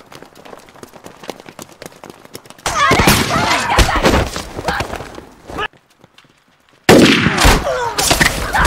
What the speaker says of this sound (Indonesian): beberapa dari mereka tewas ditembak oleh prajurit di atas gedung, Lur